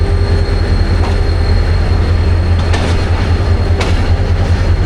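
Rehman Baba Express (47 UP) passenger train running between Karachi and Rohri, heard from on board: a steady loud rumble with rhythmic clickety-clack of wheels over rail joints and a few faint squeals.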